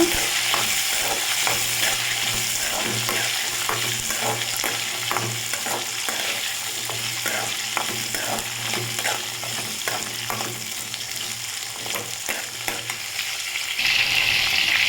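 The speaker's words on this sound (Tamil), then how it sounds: "நூறு கிராம் சின்ன வெங்காயம் உரிச்சு வச்சுருந்தோம் அதை சேர்த்துக்கலாம் சேர்த்து நல்லா வதக்கிக்கோங்க" Small onions sauté in hot oil with fenugreek and curry leaves in a pan. A steady loud sizzle runs under frequent scraping stir strokes close at hand, with no voices.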